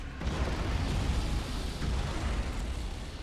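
A plasma bomb explodes in the space battle game Battlefleet Gothic Armada 2, a continuous broad roaring rumble that swells quickly and holds steady at moderate loudness for a few seconds.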